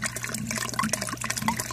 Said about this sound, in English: the water that's being driven up by an airlift pump, and then the water flows through here to the bottom